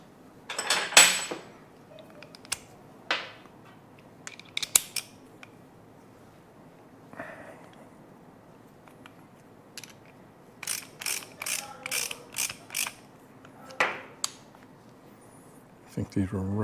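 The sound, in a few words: tightening down front suspension parts on a '57 Bel Air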